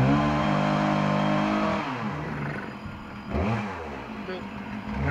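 The 2.2-litre engine of a 2003 Chevy S10 revs up from a steady idle, then drops back and surges again. It sounds close and rough, with clattering over the engine.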